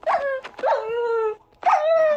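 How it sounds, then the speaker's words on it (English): A dog attacking in a video game gives three loud, close, whining yelps, each a drawn-out pitched cry, with a brief silent gap before the last one. "That your dog attacked."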